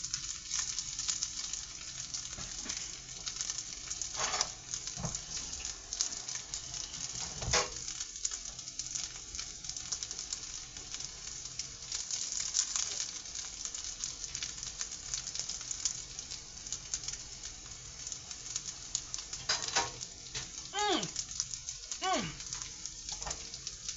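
Fried rice sizzles in a pan in a continuous low frying hiss, with scattered scrapes and clatter from stirring, especially near the end. The sound is faint and close, with no talking over it.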